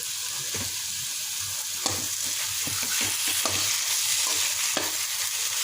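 Semolina halwa with chopped nuts roasting in a pan, a steady dry sizzle with a scraping spoon stirring in an irregular rhythm throughout, close and continuous with no talking.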